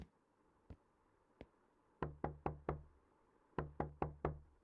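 Knocking on a door in the horror video game Night Knocks: two lone knocks, then a rapid burst of four loud knocks, a pause, and another quick run of four, all crisp and close.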